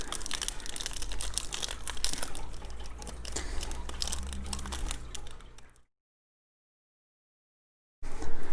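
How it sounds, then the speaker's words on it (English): WWE Topps trading card pack wrappers are torn and crinkled open, with close, busy rustling and crackling of foil for several seconds, then a silent gap and a short burst of handling at the end. "I'm trying not to bend the cards as I open them."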